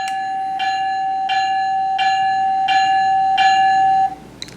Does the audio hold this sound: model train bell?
yes